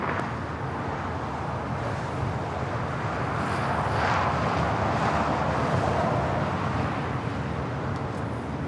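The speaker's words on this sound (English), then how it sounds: "Avianca, A320 touching down here on the south side." An Avianca Airbus A320 touches down at Los Angeles airport, heard from a distance as a steady, fairly faint jet rumble and wash of noise without any talk.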